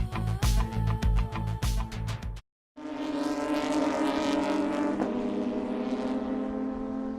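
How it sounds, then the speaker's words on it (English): Porsche GT3 Cup race cars with flat-six engines at Watkins Glen: a loud, harsh engine snarl with rapid pulses cuts out briefly, then a steady high-revving drone holds as cars pass through fast corners. "The unmistakable sound of flat 6 engines means that it's the Porsche GT3 Cup Challenge USA by Yokohama."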